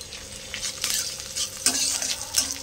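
Onions sizzle in a hot pan while being stirred, with scraping strokes and brief louder crackles, close and fairly quiet, no voices.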